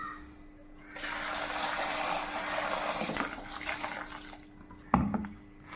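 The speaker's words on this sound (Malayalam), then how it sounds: "ഇത് നമുക്കൊന്ന് വെള്ളം ഒഴിച്ച്" Water is poured over green chillies to soak them, a steady splashing flow for several seconds that fades, followed by a brief clunk near the end, with no talking.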